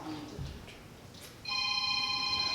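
A mobile phone rings during a church sermon, a faint electronic ringtone of steady tones that starts partway through after quiet room noise.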